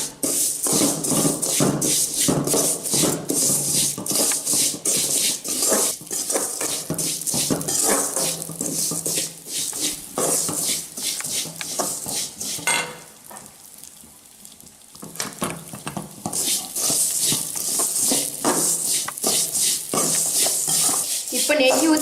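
Vermicelli roasting in ghee in a pan for semiya kesari, with busy stirring and scraping clatter and a steady sizzle throughout, easing briefly to a quieter stretch midway before the rhythmic stirring resumes.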